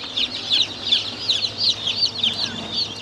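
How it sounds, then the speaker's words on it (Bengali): Tiger-breed chicks and hens on a small poultry farm give off a steady stream of high, repeated peeps and clucks. The sound is close and continuous, with no talking. "এগুলো হচ্ছে যে টাইগার মুরগি,"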